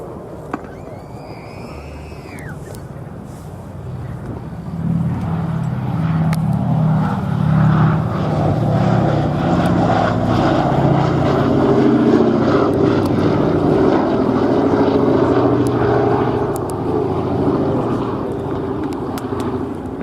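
The four piston engines of the B-17 Sally B heavy bomber drone steadily throughout, a broad propeller roar that swells slightly after the first few seconds, with a brief bird call near the start.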